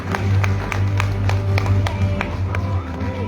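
An audience claps at a stage event as a pair is called up, a steady patter of hands under a loud low hum from the sound system and faint crowd murmur.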